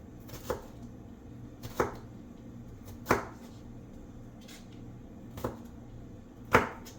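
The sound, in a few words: knife chopping green bell pepper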